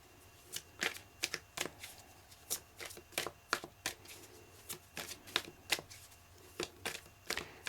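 Tarot cards are shuffled by hand in quick, close, crisp riffles and slaps, repeating in irregular bursts throughout in a quiet room with no talk.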